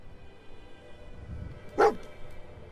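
Dogmeat, the dog companion in Fallout 4, lets out a single short bark, loud and close, over a quiet game background.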